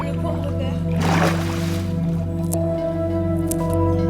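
Footsteps wade through shallow water in a video game, giving a wet squishing slosh that swells briefly and then fades, with a few drips, all over a sustained droning game-music bed.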